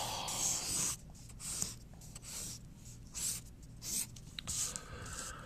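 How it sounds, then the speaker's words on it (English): A pen scratches across paper while a table is being drawn, with short bursts of strokes separated by pauses, close and fairly quiet. "So again, let's map out a table here. Let's draw the map."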